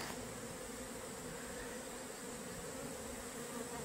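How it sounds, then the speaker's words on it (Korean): A large swarm of honeybees clinging to a pine tree gives a steady, dense buzzing drone that holds evenly throughout, close and continuous with no talking. "어마어마한 벌이"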